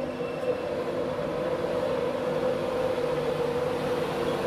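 A class 91 electric locomotive, number 91118, stands at Newark Northgate station, giving off a steady, close, continuous hum and rumble with a faint metallic whine and no voices.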